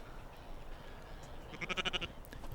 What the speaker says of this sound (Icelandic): Þessar kindur ekki eins spakar og halda sig í hæfilegri fjarlægð.